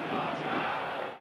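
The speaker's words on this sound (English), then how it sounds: "Here's some booing a moment ago when they first realized it was going to be a penalty awarded to the visiting team" A soccer stadium crowd boos a penalty awarded to the visiting team, a dense, loud, sustained roar of many voices that cuts off abruptly at the end.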